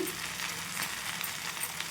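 Gongura leaves cook in a hot pan for catering-style chutney, a soft continuous sizzle and crackle heard up close without any talking.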